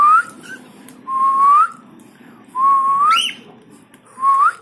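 A person whistles to cockatiels in four clear rising phrases with short pauses between them, close and alone over a faint hum of room noise.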